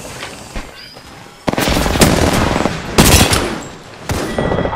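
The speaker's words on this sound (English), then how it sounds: "Down the hostile on Scotty. Reloading. Reloading. Downed another" Rapid bursts of gunfire in the video game Apex Legends, loud and close, arriving in several sustained volleys separated by brief lulls, with no talk over them.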